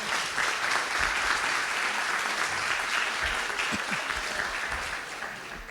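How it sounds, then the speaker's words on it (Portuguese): Congregation at a Pentecost church retreat applauding together, a dense, steady wash of clapping that holds throughout and eases off slightly at the end. "Vamos aplaudir a Trindade que esteve aqui conosco."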